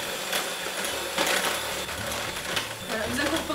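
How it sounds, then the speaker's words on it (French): An electric hand mixer beats red velvet cake batter with a steady, dense whir and some scraping clatter against the bowl, close by, while a voice talks faintly underneath. "Le batteur."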